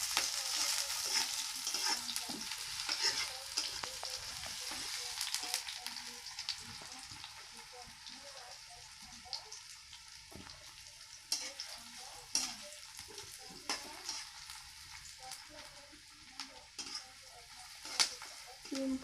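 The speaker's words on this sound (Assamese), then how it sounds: "এইফালে তেলত পিঁয়াজ দিলোঁ।" Onion sizzles faintly in hot oil with peas and potatoes, a soft continuous crackle broken by scattered stirring clicks and taps throughout.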